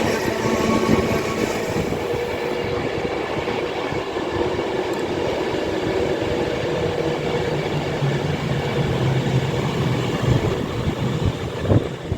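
Avanti West Coast Class 390 electric train at Rugby station, a loud, steady rail rumble with clickety-clack running the whole way, fairly close, no talking.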